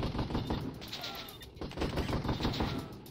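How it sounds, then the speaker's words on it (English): Rapid machine gun fire in the real-time strategy game Warzone 2100, a continuous rattling stream of gunfire bursts at moderate volume with no talk. "Thankfully, machine guns."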